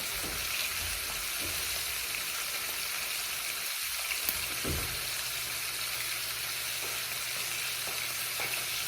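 Snapper fish frying in olive oil, Caribbean style, makes a loud, steady close sizzle with no pauses and a few soft clunks from the pan partway through.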